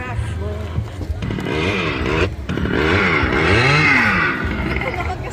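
A motorcycle engine revs near a lakeshore in Pampanga, a loud buzzing drone that rises and falls in pitch as it passes close by.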